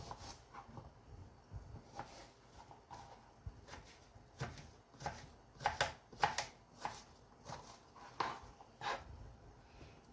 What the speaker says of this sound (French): Et le reste, vous faites tout en petits dés.